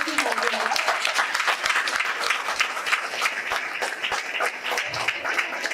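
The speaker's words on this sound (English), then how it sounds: "let's give another round of applause for Ms. Vindhya." Steady, sustained applause from a college lecture audience filling the whole stretch, many hands clapping at an even, enthusiastic level.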